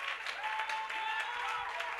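A church congregation claps in worship, a dense steady round of applause filling the room under faint voices and a sustained tone.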